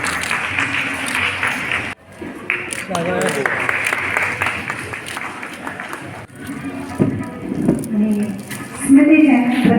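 Applause from a gathered crowd at a ceremony honouring a chief guest in Varanasi, rising and falling across several bursts, with voices talking through it.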